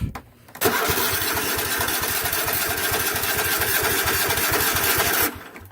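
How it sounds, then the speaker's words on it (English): A Kohler engine on a Craftsman riding lawn mower cranks briefly, then catches and runs with a loud, steady rapid chugging close by, before cutting off near the end. "I have struggled to start this engine at this point."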